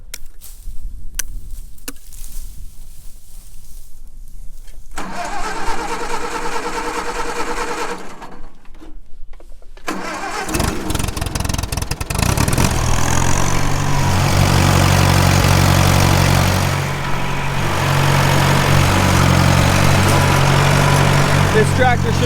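Tractor engine on a buffalo ranch starts up about halfway through after quieter, scattered noises, then settles into a loud, steady running drone with a strong low hum.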